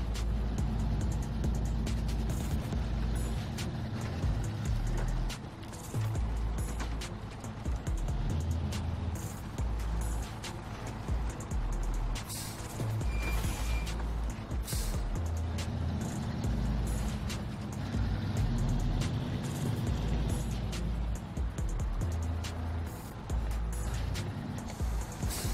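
A heavy truck's engine in the Snowrunner video game drones loudly and steadily across the whole stretch while climbing Michigan terrain, its low rumble rising and falling with throttle, with no talk over it.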